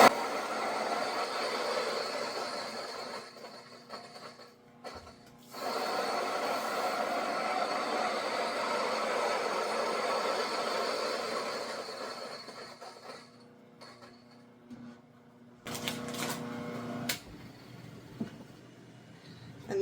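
A Mockmill 100 grain mill grinds rice into flour with a steady whirring, rattling drone that stops briefly, resumes, and ends in a few scattered knocks and clatters.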